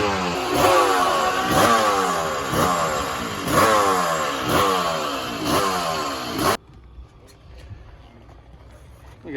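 A Yamaha TZ250 two-stroke GP racing motorcycle is ridden hard, its engine repeatedly revving up and dropping through gear changes with a loud, raspy two-stroke wail, then falling suddenly to a quieter, distant engine sound near the end.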